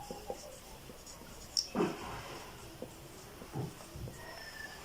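Pen or chalk scratching out a math formula during a class 8 maths lesson, heard as a few soft, scattered strokes and taps, close but quiet, with no speech.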